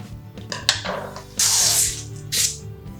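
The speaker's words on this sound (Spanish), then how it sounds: "Pulverizamos con un poco de aceite un papel para horno." An oil sprayer mists oil onto baking paper in two short hissing bursts, each under half a second. Soft clicks and handling knocks come before and between them, all close up.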